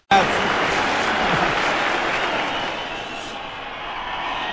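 A theatre audience at a live concert breaks into applause, starting abruptly and holding as a steady, full wash of clapping that eases slightly toward the end.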